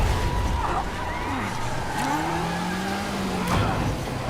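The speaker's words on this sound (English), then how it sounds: "I love stopping the cars that way in this game." Cars in Marvel's Spider-Man video game screech and skid to a stop, a sustained tire squeal with engine noise over a busy city street bed, while a voice talks faintly underneath.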